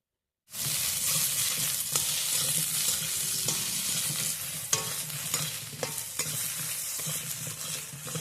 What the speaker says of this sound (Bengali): কাঁচকলাটাকে ভাজা করে নেব